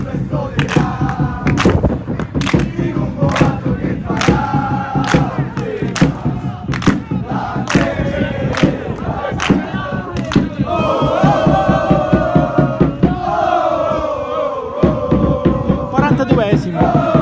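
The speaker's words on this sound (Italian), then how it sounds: "faccio sentire anche un pochettino i tifosi, gli ultras di Misilmeri che sono arrivati fino a qui, fino a San Vito per sostenere la formazione di Mister Napoli" Misilmeri ultras supporters at an Eccellenza football match in San Vito Lo Capo, Sicily, chanting and shouting in loud unison with rhythmic thumps of drumming or clapping, a dense continuous crowd roar throughout.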